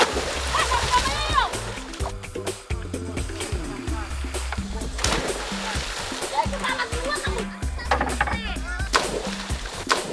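Village children from Muang Pate playing in the Karang Mumus river in Indonesia, splashing and churning the water close by while their voices shout and chatter throughout.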